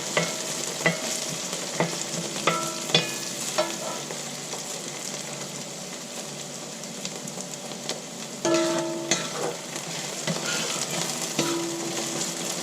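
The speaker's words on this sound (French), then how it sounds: "Je vais les faire tourner un peu dans l'huile, les envelopper comme il faut et les laisser rissoler à peu près 1 minute dans l'huile" Autumn vegetables tossed in hot oil with spices, a steady sizzle with repeated utensil clicks and scrapes against the pan, some stirring louder midway.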